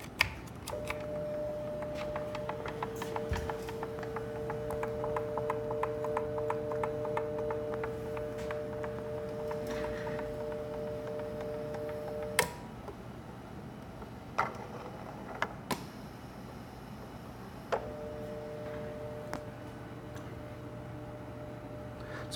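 A low-cost electro-pneumatic mechatronics trainer runs, fed by a $50 air compressor, with a steady mechanical drone, sustained tonal hum and scattered sharp clicks and valve-like snaps, alone at moderate level.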